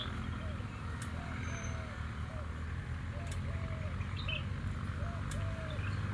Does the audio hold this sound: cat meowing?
no